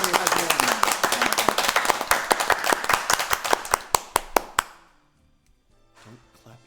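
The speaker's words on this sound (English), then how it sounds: "Don't clap next to the microphone." Close, loud hand clapping right beside a microphone during a live stream event, with a fast burst of claps that slows into a few sharp separate claps before stopping, followed by faint talk.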